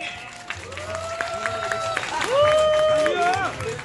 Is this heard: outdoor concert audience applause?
yes